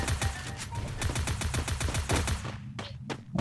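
Rapid bursts of automatic gunfire from the Free Fire battle-royale game, a dense rattling string of close, loud shots that thins into a few separate cracks near the end.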